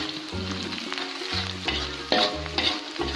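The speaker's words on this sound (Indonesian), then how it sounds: "Kita goreng sampai kering." Topping for Sundanese nasi liwet fries in hot oil until crisp, a steady loud sizzle broken by repeated scraping stirs of a spatula in the pan, close up with no talking.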